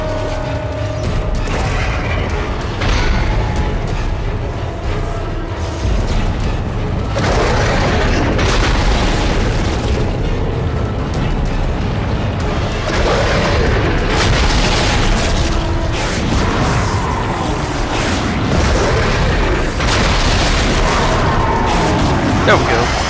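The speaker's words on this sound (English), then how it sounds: "Space shotgun." A space shotgun fires repeatedly in the video game Dead Space, heavy booms recurring every few seconds amid mechanical clanks and game noise, with a voice talking over much of it.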